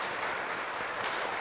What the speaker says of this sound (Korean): 환영합니다. 박수 환영하겠습니다.